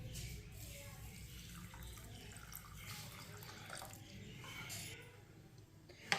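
Water runs and trickles steadily for several seconds, poured into a half glass for a sharbat drink, with a faint voice in the background.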